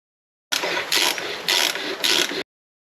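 Ratchet wrench turning a 6 mm Allen key on a brake caliper bolt of a Mercedes-Benz Sprinter W906, four quick bursts of loud, close clicking in a steady back-and-forth rhythm, with no talk.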